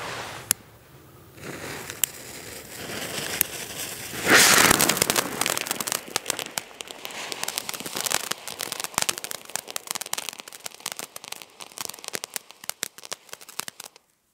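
Knattermaxe firecrackers set off in snow for New Year's Eve pop in a rapid crackling chain, a burst of loud sharp reports giving way to scattered snapping crackles that thin out over several seconds.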